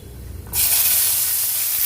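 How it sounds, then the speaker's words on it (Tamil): A low bubbling murmur gives way to a sudden loud, steady sizzle as onion, tomato, ginger and green chilli are sautéed in hot oil close by. "இது எல்லாத்தையும் சேர்த்து நல்லா வதக்கிக்கணும்"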